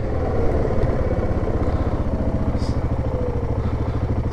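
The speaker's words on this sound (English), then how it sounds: "Let your engine brake do its thing." An ATV engine braking down a steep hill on a fall trail ride, a steady low throbbing putter with rapid rhythmic pulses, close and continuous, with a little clatter over it.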